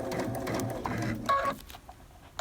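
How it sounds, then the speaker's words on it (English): A sewing machine stitches cuddle fabric appliqué in bursts of close mechanical whirring, stopping and restarting once partway through as the work pivots. "I pivot my project, keep sewing along."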